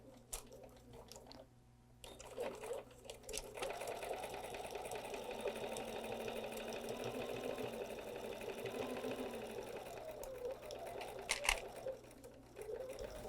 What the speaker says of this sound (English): you're going to start sewing right where you can kind of feel the rug is